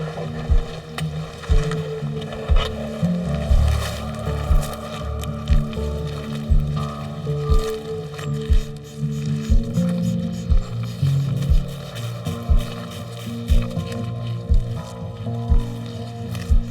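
A CF Moto six-seat utility vehicle drives steadily, its engine drone running unbroken while regular thumps and rattles from the rough track beat through it, close and fairly loud.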